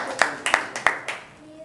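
A group of children in a Hindi club audience claps in unison, giving four sharp, evenly spaced claps close by, and then the clapping stops.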